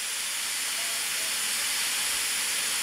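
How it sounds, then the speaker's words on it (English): Bright noise from the iPhone's built-in background sounds, a constant hiss tilted toward the treble, playing alone at an unchanging level with no voices. "bright noise,"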